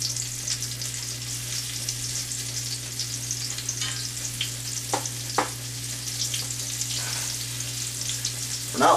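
Squirrel pieces browning in lard in a skillet give a steady close sizzle over a low constant hum, with a few louder crackles and pops along the way and no voices.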